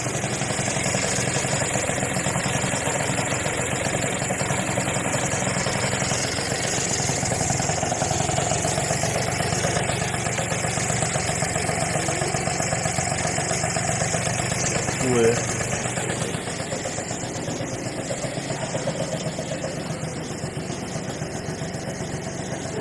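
A car engine idles steadily with a low, even rumble throughout, close and constant, with no clear speech over it.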